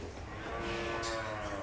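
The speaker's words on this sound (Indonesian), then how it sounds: "jenis sapi limosin." A Limousin cow moos at a cattle farm pen, one sustained low bellow lasting over a second, fairly close, with a steady noisy background and no talking.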